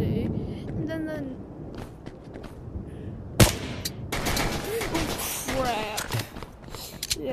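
Video game firefight with rapid bursts of gunfire and a sharp loud shot midway, mixed with footsteps and game sounds while people talk over the action.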